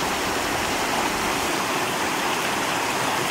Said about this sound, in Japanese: 雨が降ってきましたよ、今。